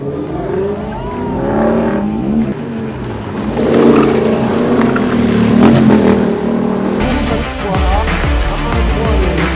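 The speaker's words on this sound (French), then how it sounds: "Lexus LC500. Go!" A Lexus LC500 grand touring car driving on a racetrack, its loud engine roaring and revving close by with tire noise, and a voice talking over it throughout.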